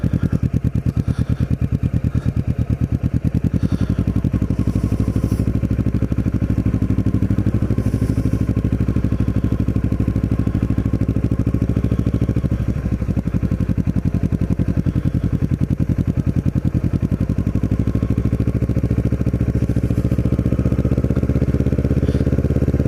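A Kawasaki Ninja motorcycle rides along at a steady pace, its engine droning loud and close with a clattery mid-range tone, over constant wind rush on a calm, sunny day.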